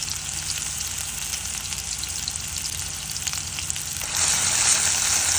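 Raw onion and garlic frying in oil, a steady close hiss that swells louder and brighter near the end as the sizzle intensifies.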